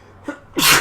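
A single sharp sneeze, preceded by a quick faint intake of breath, close and loud, heard alone during a StarCraft match broadcast.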